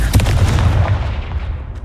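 Confringo fire spell blasting in Hogwarts Legacy, a loud booming explosion with heavy low rumble that fades out over about two seconds, no talking.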